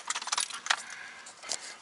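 A bunch of car keys jangles and clinks close by in a quick, bright flurry, then a few softer rattles.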